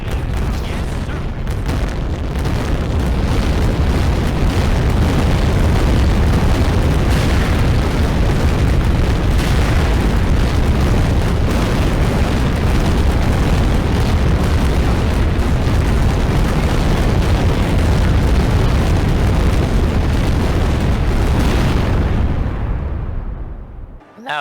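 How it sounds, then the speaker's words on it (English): War video game explosions form a loud, dense, continuous barrage of booms and rumbling blasts that runs for over twenty seconds before cutting out abruptly. "explosions are pretty deafening"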